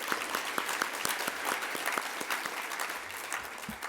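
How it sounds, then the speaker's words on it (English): Audience at a climate resilience and complete streets panel applauding speakers onto the stage, moderate steady clapping with distinct individual claps standing out, fairly close, continuing for several seconds. "Please, let's invite our speakers to the stage with a round of applause"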